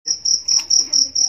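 A cricket chirps in a steady series of about six short, bright pulses evenly spaced, close and loud, with no other sounds around it.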